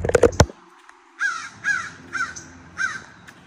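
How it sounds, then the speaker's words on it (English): A crow calls from somewhere back near the New Echota River, four harsh caws spaced about half a second apart, clear and fairly close, following a brief thump at the start. "Sound like a crow back there."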